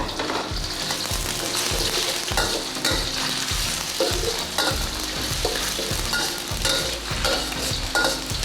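Shiitake mushrooms and ginger stir-fry in a pan, a steady loud sizzle broken by regular scraping strokes of a utensil about every half second, with no talking.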